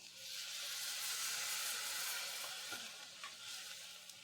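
Chicken curry masala in a pan hisses and sizzles softly after a glass of water is poured in, a steady broadband bubbling wash with a few faint stirring clinks, fairly quiet with no talking.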